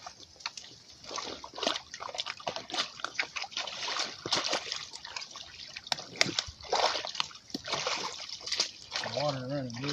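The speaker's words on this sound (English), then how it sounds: "water running good, that's all you need." Running water splashes and sloshes steadily at an old den set used for trapping, close and continuous, with a brief voice at the very end.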